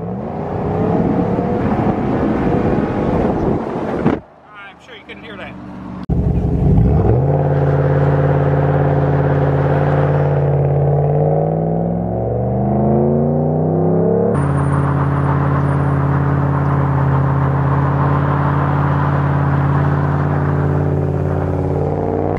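Lifted Ram 1500 truck with the muffler removed, its engine idling loud and close, then revving in rising and falling sweeps over a steady rumble with a brief dip partway, no talking.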